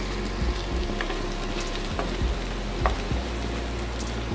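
Spice paste fries steadily for a Bengali fish curry, giving a continuous loud sizzle close by with occasional stirring scrapes and pops.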